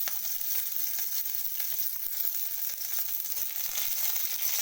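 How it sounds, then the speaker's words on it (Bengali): Chopped garlic fries in hot oil for a tomato vorta, giving a continuous close hiss and crackle at an even volume with no talking. "এটাকেও আমি হালকা করে ভেজে নেব"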